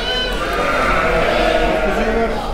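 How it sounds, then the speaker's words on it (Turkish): Lambs at a livestock market selling Kıvırcık sheep bleat loudly and continuously, several voices overlapping in a dense, close chorus. "Şöyle kuzularımıza da gidelim."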